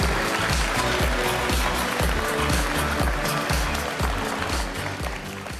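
An audience applauds at the live Cisco Live 2025 conference in San Diego. The clapping is a continuous broadband wash that holds steady over a regular thumping beat, then eases slightly toward the end.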